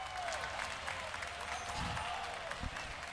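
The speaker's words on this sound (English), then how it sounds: "You can hear the crowd back there. They're into it." Tournament crowd at a CEO 2025 Mortal Kombat 1 top eight event applauds and cheers in the background, a steady spread of claps and crowd noise under a commentator's voice.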